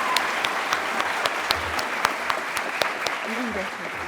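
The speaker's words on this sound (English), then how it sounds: "Let's give a huge round of applause for Mr." Lively audience applause honoring a man named Mr. Pye at a South Carolina event, a full, continuous burst of many hands with a few sharper claps standing out and faint voices underneath.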